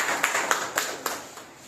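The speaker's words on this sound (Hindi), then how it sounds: "ताली बजाते चलें सब सभी।" Students in a classroom clap their hands together in several sharp, irregular bursts, fairly close, with no one speaking over the claps.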